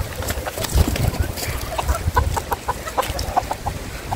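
Backyard chickens clucking in a poultry pen, a flock with a black rooster among hens, giving repeated short clucks and calls, some near and some farther off, over steady rustling farmyard ambience, no talking.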